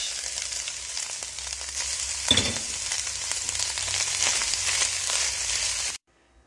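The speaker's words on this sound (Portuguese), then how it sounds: "Adicione o peito de frango desfiado e mexa bastante" Steady loud sizzling of shredded chicken breast frying in a pan with olive oil, with a scrape of stirring partway through, then it cuts off abruptly.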